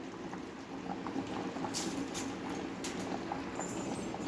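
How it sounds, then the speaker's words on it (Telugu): Pot water for gongura chicken biryani bubbles at a rolling boil, a faint, steady simmer up close with scattered soft pops and a few brief clinks. "ఇంకా బాగా ఉడుకుతుంది ఎసురు"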